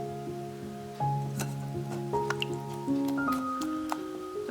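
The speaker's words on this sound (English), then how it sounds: "Now I'm just rinsing the little flowers." Small mullein flowers are rinsed in water, giving light drips and soft squishy splashes over steady background music.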